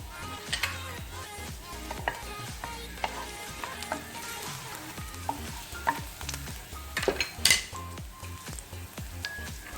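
Garlic sautés in hot oil in a kawali for pork humba, with a steady crackling sizzle and frequent sharp spatula scrapes and clinks against the pan, close up and without speech.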